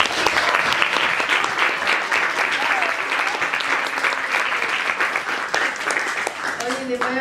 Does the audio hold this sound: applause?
yes